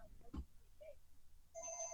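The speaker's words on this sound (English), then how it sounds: "Your landline's ringing." A landline telephone rings faintly in the background of a podcast recording, a short electronic ring burst near the end after a quiet stretch with a brief thump.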